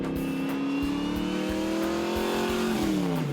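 A Yenko Camaro muscle car accelerates hard, its engine note climbing steadily through a gear before a shift drops the pitch, loud and close with a throaty exhaust rumble.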